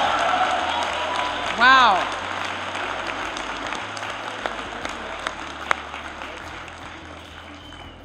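Audience applause fills a convocation ceremony hall, a steady wash of clapping from a large crowd that carries on throughout while someone briefly exclaims near the start.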